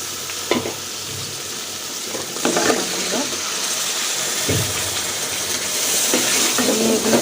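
Potatoes sauté with fried onion and spices in a pan. The sizzle is loud and steady, with spatula scrapes and stirring knocks, and a watery splash-like rustle is mixed in.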